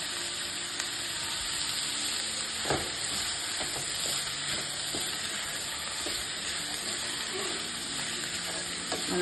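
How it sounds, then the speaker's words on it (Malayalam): Capsicum and mixed vegetables sauté for Schezwan fried rice, giving a steady loud sizzle with a dense hiss throughout and occasional soft spatula knocks and stirring scrapes, no voices. "ഒന്ന് എല്ലാം കൂടി ഒന്ന് വഴഞ്ഞ് വെക്കാം"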